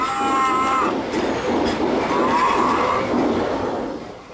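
A model garden railroad train on the Cajon Railroad rolls along with a soft, steady clatter, joined near the start by short tonal squeals or whistles.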